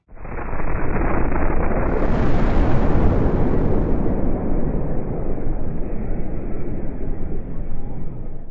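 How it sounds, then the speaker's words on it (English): A sudden loud explosion in the digester area of a paper mill erupts and keeps roaring as a sustained, rumbling, distorted wall of noise for several seconds, with no voices. "The explosion took place in the facility's digester area"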